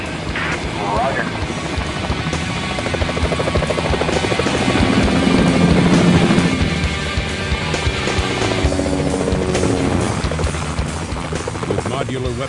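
A military armed aerial scout helicopter takes off, its rotor and turbine roaring loudly and continuously close by, swelling in the middle, with voices talking over the noise.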